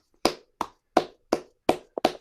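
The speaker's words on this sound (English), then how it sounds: "Give yourselves a round of applause, everyone who read" Sparse, separate claps or taps from an online audience, about six crisp hits at an uneven pace, close and clear against silence.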